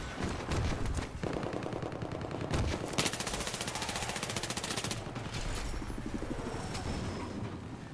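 Rapid automatic gunfire in the video game Battlefield: Hardline, dense continuous bursts of loud shots and rattling fire filling the whole stretch with no pauses.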